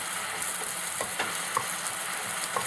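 Noodles fry in a pan with a steady hiss and sizzle, broken by occasional soft stirring clicks, close and fairly quiet.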